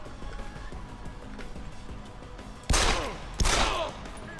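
Two loud, sharp gunshot impacts striking the player in Deus Ex, a short beat apart, each followed by a brief ringing tail over a low, murky game ambience.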